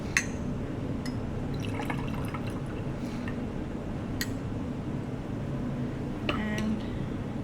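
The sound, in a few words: pouring sulfuric acid into lab glassware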